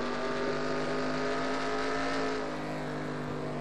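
A race car engine in a NASCAR Piston Cup video game holds a loud, steady harmonic whine, easing slightly near the end with no talk over it.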